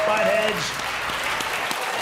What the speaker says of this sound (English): Clap, buttheads.